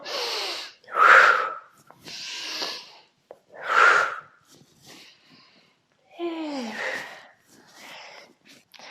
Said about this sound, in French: Et 3 grandes respirations.